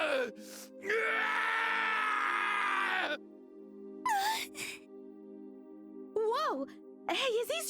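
A character in the video game Trails in the Sky: 1st Chapter groans and cries out in pain in a long sustained strained howl, then breaks into shorter pained yelps and gasps, loud over a steady game hum.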